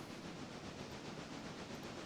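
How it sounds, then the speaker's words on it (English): A train rolls along railroad tracks with a steady, quiet rumbling hiss that stays even throughout and has no voices. "All right, let's grab this train again."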